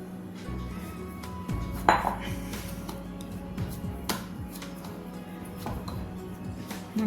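Sweet potato dough with rice flour mixed and kneaded by hand in a metal bowl, with close clinks and knocks of the bowl and utensils over a steady background hum and no talk.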